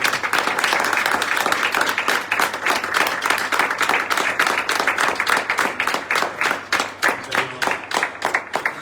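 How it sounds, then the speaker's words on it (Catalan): Applause from an audience at a Catalan tribute ceremony for Olympic cyclists, a dense steady clapping that carries on for several seconds, thinning slightly toward the end. "Molt bé, vinga, un aplaudiment."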